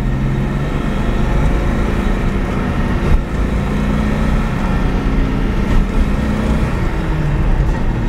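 A 1978 Datsun 280Z with fuel starvation pulls in second gear with the pedal floored, its engine a loud, steady, close drone with small surges that stumbles rather than building, with no voices over it.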